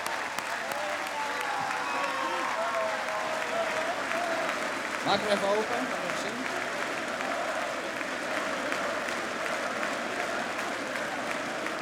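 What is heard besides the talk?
audience applause at football player's farewell ceremony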